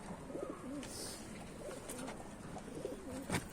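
Pigeons coo repeatedly in soft, throaty warbles at close range, with faint rustling and a light outdoor background.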